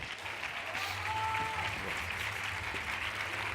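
Steady crowd applause welcomes Dr. Miguel Álvarez onto the stage at a Colombian science expo panel, a dense wash of clapping that holds at even loudness throughout.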